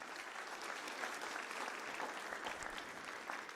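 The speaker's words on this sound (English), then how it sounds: "Can you put your hands together for all of our leadership team?" Warm applause from an audience at an 8th grade graduation ceremony for the school's leadership team, a steady, dense patter of many hands clapping at moderate distance, lasting throughout without a break.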